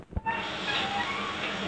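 Inside a running RER D commuter train, a steady broadband rumble and hiss of the moving carriage fills the space, close and continuous after a short thump at the start.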